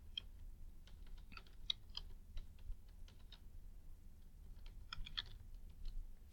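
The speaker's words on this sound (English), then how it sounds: "Let me just type in his name here." Someone types a name on a computer keyboard, giving soft, quick, irregular key clicks in short bursts over a quiet background hum.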